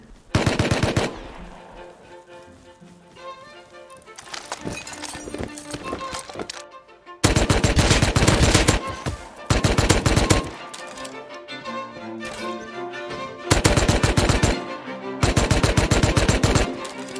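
Bursts of loud automatic gunfire from the survival game Rust come in long rapid volleys separated by quieter stretches, close and dominant, with horse hooves and a whinny faintly in between.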